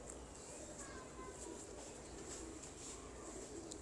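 Pigeons kept by a breeder coo softly amid steady background noise, with faint chirps and low murmurs scattered across the moment.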